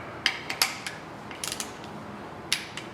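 A wrench tightens the cylinder head bolts on a 5.3L LS LM7 V8 to 22 foot-pounds. Quiet ratcheting clicks and metallic ticks come in short, irregular bursts against faint background noise.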